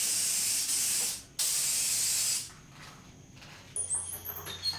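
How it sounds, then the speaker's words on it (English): Loud bursts of spray hiss from a spray gun applying Cerakote coating to a Stanley No. 151 spokeshave, two long blasts with a short gap, then quieter hiss and faint noises. "Once it's all mixed up, I'll spray it on."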